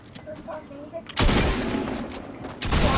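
Gunfire from the video game Fortnite, a loud burst that erupts after a second of quieter game sounds and keeps rattling as a sustained fusillade, with a second strong volley near the end; a voice speaks over the game audio.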